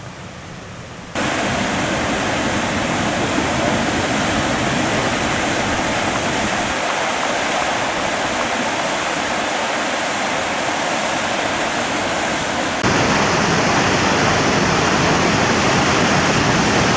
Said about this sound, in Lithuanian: Ten Gyvačio krioklys.